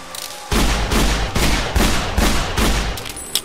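Rapid bursts of weapon fire from a Minecraft game, seven or so loud, booming shots in a steady rhythm, close and dominant with no talking over them.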